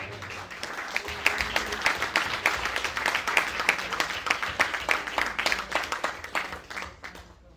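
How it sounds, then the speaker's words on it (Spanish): A church congregation claps together in a sustained round of applause during an evangelistic service, with many hands beating at a quick, fairly steady rhythm, moderately loud and continuous. "¿Cuántos le damos ofrenda de aplauso al Señor?"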